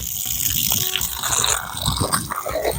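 Water gushing from a garden hose outdoors, a steady splashing rush with some irregular spattering, fairly close and continuous with no talking.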